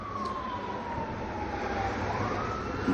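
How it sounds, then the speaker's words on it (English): A distant ambulance siren sliding slowly downward in pitch, faint and partly buried under steady outdoor background noise. "More fucking ambulances."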